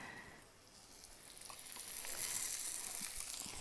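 Garlic thrown into a hot cast iron skillet with onions, giving a soft, steady sizzle that grows a little louder after the first couple of seconds and holds as a continuous hiss, with no talking.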